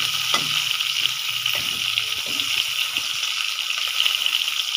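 Shrimp and bitter gourd pieces shallow-frying in oil, a steady nearby sizzle with a few soft knocks and stirs in the pan, heard alone without talking.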